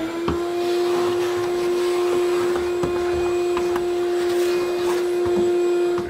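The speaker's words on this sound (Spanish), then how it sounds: "Pero antes de rociar, tengo que aspirar." A vacuum cleaner runs steadily with a loud, constant motor whine and a bright sustained hum, cleaning up in preparation for spray painting during a kitchen renovation, with small knocks and rattles in the background.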